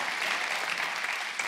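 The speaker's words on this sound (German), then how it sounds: "Applaus" Studio audience at a German game show applauding steadily, a dense even wash of clapping at moderate distance with no voices over it.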